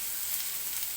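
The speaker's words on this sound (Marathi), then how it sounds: "हा कांदा अगदी लालसर होईपर्यंत हा कांदा मी तेलामध्ये भाजून घेते" Chopped onion sizzles steadily in a small amount of oil in a pan while cooking for a spicy Maharashtrian dry mutton dish, a constant, close, hissing crackle with no talking.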